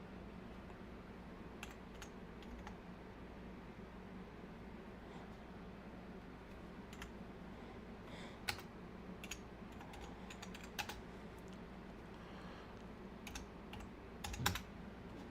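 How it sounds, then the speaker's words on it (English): Quiet, sparse one-handed typing on a computer keyboard, scattered key clicks at an uneven pace over a steady low background hum, with a louder cluster of clicks near the end. "Typing with one hand."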